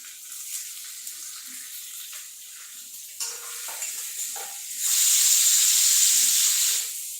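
Onions going into hot oil for kadhi pakoda: quiet stirring and clinks at first, then a loud steady sizzle that swells over the last couple of seconds.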